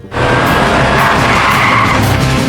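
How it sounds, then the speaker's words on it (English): A supercar speeds up on a road and brakes abruptly, its tires skidding with a loud, sustained screech that runs the whole time, close and dominant, with no talking. "A supercar sped up and stopped abruptly in the middle of the road."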